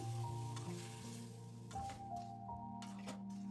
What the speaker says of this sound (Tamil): நல்லா கிளறி விட்டு ஒரு டூ டு த்ரீ மினிட்ஸ் நல்லா வேகணும்